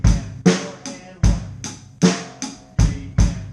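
A steady rock drum beat played up close, with punchy bass drum thumps on counts one, three and the and of three, and bright cymbal and snare hits in an even repeating pattern.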